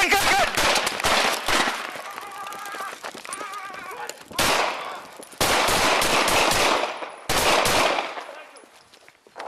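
Loud, close gunfire during a police shootout in Grand Rapids, Michigan, captured on a body camera: rapid clustered cracks in several sharp bursts, with shouting voices and commotion between them.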